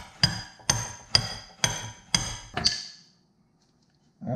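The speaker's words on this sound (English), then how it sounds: "I'm gonna lightly hit it with a hammer." Six light, quick hammer taps on a metal bushing for a Honda CRX Si subframe brace ring out in an even rhythm, close and bright, then silence with a faint knock at the end.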